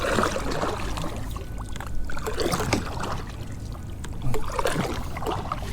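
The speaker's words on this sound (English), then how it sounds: "the motor's not working, so now I get to paddle" Kayak paddle strokes splashing and dripping through water after the motor failed, a steady rhythmic swish with a couple of stronger strokes, close and continuous with no talking.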